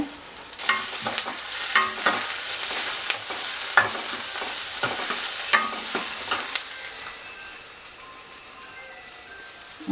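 Curry leaves crackle in hot oil while being tempered for a raw mango pickle-style pachadi, giving a steady close sizzle broken by sharp pops and spits spread across the whole stretch, with no voices.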